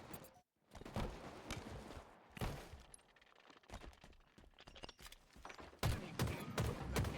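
Rapid bursts of gunfire from a Halo Infinite King of the Hill match, with repeated shots and sharp volleys layered over footsteps and game ambience, loudest near the end.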